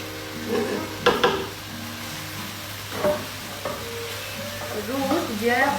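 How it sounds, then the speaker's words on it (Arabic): Mushrooms and vegetables fry in a pan for a pasta Alfredo, with a soft steady sizzle, scraping stirs and a few clacks of a utensil against the pan, close up and alone. "خضروات خلينا نقليهم، نقلي الفطر"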